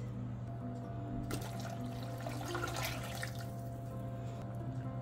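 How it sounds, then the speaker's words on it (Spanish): Water pours into a cooking pot of about four cups being readied for boiling, a steady splashing stream running close and moderately loud across the whole stretch with a slight surge midway. "Yo puse 4 tazas de agua en total."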